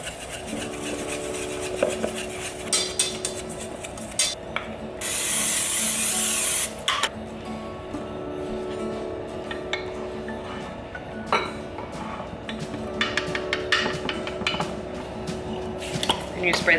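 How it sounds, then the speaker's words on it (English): Quick, repeated scraping and tapping as eggs are whisked in a bowl, with a sustained hissing spray of cooking oil partway through and brief voices in the background. "then we're gonna whisk this"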